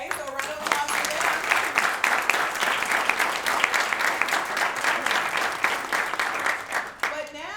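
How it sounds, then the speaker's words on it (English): An audience applauds students of the month at a Missouri school awards ceremony, with steady, dense clapping filling the room for several seconds before tapering off near the end. "Okay, so a round of applause for them."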